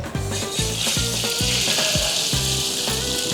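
A crab egg omelette sizzles loudly in a hot pan, a steady frying crackle broken by rhythmic scraping and tapping as the egg is worked and folded, with no voices.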